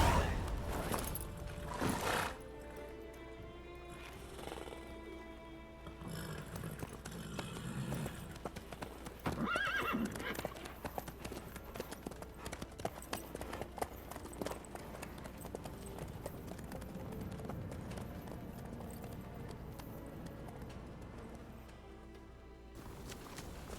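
Horse hooves clip-clop steadily in a video game, a continuous trotting rhythm with background ambience and faint voices.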